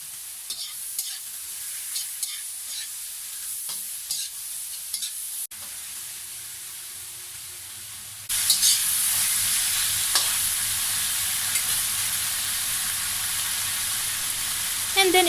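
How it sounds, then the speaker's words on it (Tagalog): Pancit guisado noodles are stirred in a hot pan, with scraping strokes over a quiet sizzle that swells louder partway through and continues steadily to the end. "And haluin lang natin siya after 2 minutes."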